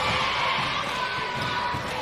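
A large crowd roars and cheers steadily in an indoor arena during a boys' high school basketball state semi-final, a dense, continuous wash of voices with faint ball bounces underneath.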